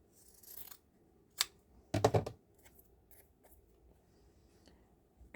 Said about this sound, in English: so I'm going to trim.